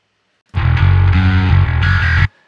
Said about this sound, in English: It's a mid distortion band and a high distortion band.